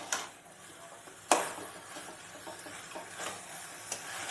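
A spoon scrapes and stirs chicken curry masala in a pan over a high gas flame, a soft sizzle running underneath with one sharp clack of utensil on metal and lighter scrapes after it.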